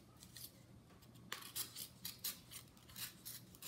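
An X-Acto knife slices through paper in a run of short, rhythmic scraping cuts, close and fairly quiet, after a brief softer stretch at the start.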